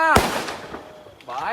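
A single sharp, close bang from an Eid firecracker, with excited voices shouting just before and after it.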